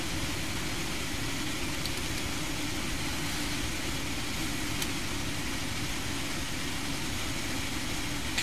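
Steady, dense roar of L1011 jet engines in the Prepar3D flight simulator, flying through bad weather, a constant broadband drone that holds level throughout with no breaks.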